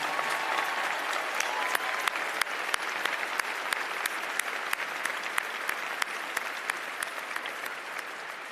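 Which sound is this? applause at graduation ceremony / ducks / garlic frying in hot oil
applause at graduation ceremony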